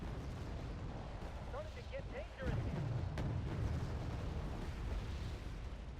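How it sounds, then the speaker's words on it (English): Big rocket artillery blasts rumble in the Wargame: Red Dragon battle, a dense low roar of overlapping impacts with a sharper burst near the middle, while a voice talks over the din. "rocket artillery is usually pretty inaccurate, but as you can see, very big explosions here"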